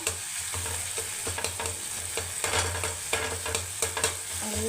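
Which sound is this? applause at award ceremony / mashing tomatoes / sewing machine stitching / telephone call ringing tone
mashing tomatoes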